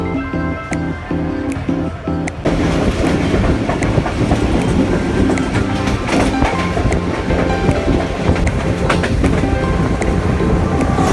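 Passenger express train (16 Down Karachi Express) rolling on rails, a dense, steady rumble with rhythmic clacking that swells after a quieter start and continues loud throughout.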